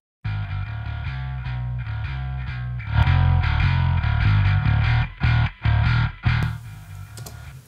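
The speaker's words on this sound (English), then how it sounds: "It's quite fizzy, got loads of distortion in it." A heavily distorted bass guitar plays a fuzzy, gritty riff, sustained notes giving way to choppy stabs near the end, loud and close.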